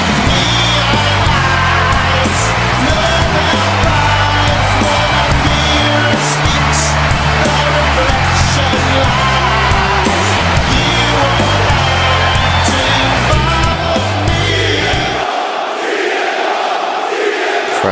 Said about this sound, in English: Crowd just chanting his name.